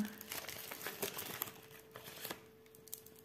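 Parchment baking paper being unwrapped at close range, a steady run of crisp crinkles and rustles for a few seconds with sharper crackles in the middle, fading out toward the end.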